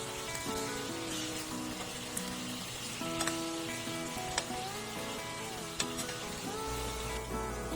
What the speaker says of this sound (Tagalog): Pagkatapos nating asinan, prituhin na natin ang mga ito.